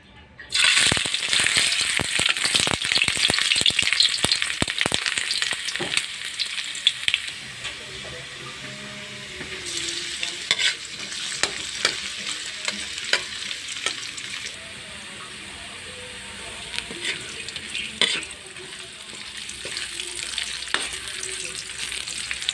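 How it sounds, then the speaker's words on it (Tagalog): Chopped ingredients are sautéed in a hot pan. A loud burst of sizzling at the start settles into steady frying with scraping, stirring clatter close by, and a voice talks now and then. "Gisa na tayo."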